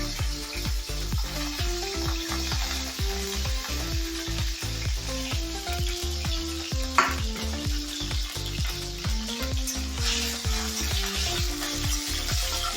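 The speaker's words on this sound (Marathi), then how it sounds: "त्याच्यामध्ये लसूण आणि मिरची टाकून घ्यायची." Garlic and green chilies frying in hot oil, a loud, continuous sizzle with crackling and a few sharper pops, heard close up with no voices.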